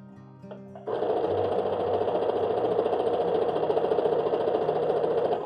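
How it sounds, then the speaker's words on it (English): A sewing machine stitches a plain seam with a fast, even, continuous mechanical whir and rattle close up, starting abruptly after a few soft handling sounds. "Begin by sewing slowly and make sure you press the reverse button to give a back stitch"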